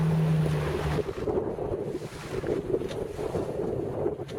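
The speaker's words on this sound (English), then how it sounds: "Wind also slowing up." Wind rushes past a restored 1966 MacGregor Venture sailboat heading to Catalina Island, a steady breathy roar with low buffeting and water wash, after a brief low hum at the start.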